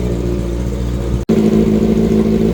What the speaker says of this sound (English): let the thing warm up a little bit, then we'll come back for some revs